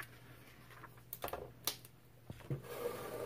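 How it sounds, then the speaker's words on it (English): A few quiet, dry cracks and crinkles as the spine of a glossy-paged Jack Kirby omnibus gives while the covers open, with soft paper handling sounds between them. "I hate it when I hear the spine crack like that"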